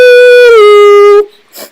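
A human voice imitates a caribou mating call with a loud, sustained nasal tone that drops slightly in pitch, holds for just over a second, and ends in a brief breathy tail.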